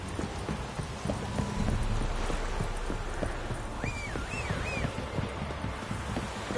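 A horse gallops in The Witcher 3 video game, its hooves beating a quick, steady clip-clop rhythm over a windy outdoor backdrop, with a short whinny-like call midway.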